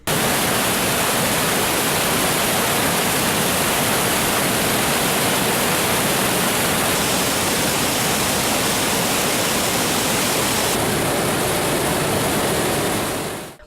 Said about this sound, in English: Water pushes through the rocks and flows down the bottom. As it touches the ground, it uses excessive force as it is seen splashing.